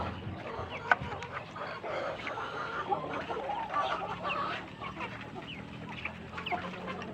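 A flock of many backyard chickens clucks and calls continuously at moderate distance, with overlapping hen chatter and occasional sharper squawks, no talking heard.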